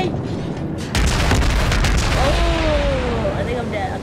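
Naval guns firing in World of Warships: a heavy boom breaks in about a second in, followed by a sustained rumbling roar with whistling shell sounds, all loud and close.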